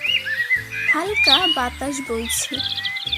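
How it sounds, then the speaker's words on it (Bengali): Cartoon birds on a sunny morning chirp and whistle in quick, bright, rising trills over a light musical backing, while a narrator speaks over them. "পাখিরা কিচিরমিচির করে গান গাইছে"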